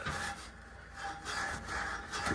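A dirty shaft from a house air-conditioner blower motor, an Amana or Goodman unit, is rubbed clean in repeated back-and-forth scraping strokes, soft and close with a rhythmic rasp.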